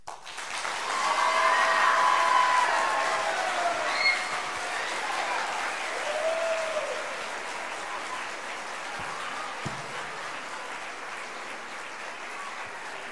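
A middle school audience claps after a spring choir song, applause swelling quickly and holding at a steady level, with some cheering voices and murmur mixed in.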